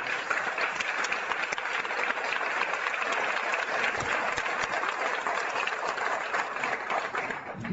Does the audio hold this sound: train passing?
no